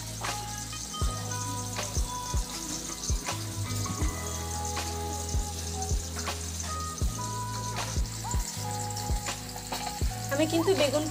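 Boroli fish frying in mustard oil in a kadai, giving a steady, moderate sizzle with occasional crackles beneath a low, rhythmic background hum.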